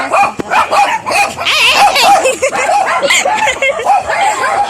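Several dogs bark and yip close by in an overlapping, continuous chorus, loud and excited throughout, at a pigeon market.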